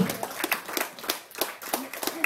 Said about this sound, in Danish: Og de fortjener om noget en voldsom klapsalve